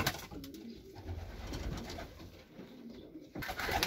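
Racing pigeons coo softly in a loft during the winter program, with males separated from females; low, rolling calls repeat steadily under a faint ambient hiss, with no talking.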